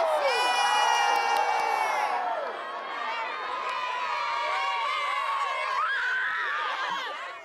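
Children and an outdoor crowd at a holiday wreath-lighting event cheer and shout loudly and continuously, with high whoops and excited voices throughout.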